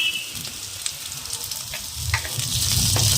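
Onions drop into hot oil in which garlic has browned alongside a few green chillies. The sizzle is close and steady, growing louder and fuller as the onions go in.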